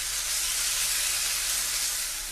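Chopped green chilies sizzle in a hot skillet, a loud, dense, steady hiss of frying that fills the moment with no voices over it.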